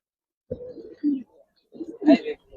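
Old-breed Giribaz pigeons coo close by in two short throaty bursts separated by a brief pause, the second rising louder and fuller, against otherwise quiet surroundings.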